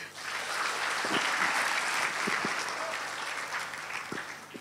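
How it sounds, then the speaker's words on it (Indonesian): Warm audience applause at an Indonesian motivational talk, a broad steady wash of clapping with a few sharper individual claps standing out, close and continuous. "Tepuk tangan buat semuanya."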